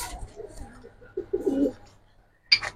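An old-line silver Giribaz pigeon gives soft, low coos up close, a short rolling call that swells and fades, followed by a brief sharper sound near the end.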